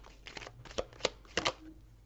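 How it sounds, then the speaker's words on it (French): Cards from an oracle or rune deck are shuffled and drawn in a quiet room, giving a few brief papery flicks and taps spread over two seconds, close and soft, with no talking. "je vais tirer une dernière carte"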